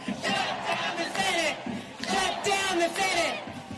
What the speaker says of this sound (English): Crowd shouting there, waving a mini golf putter.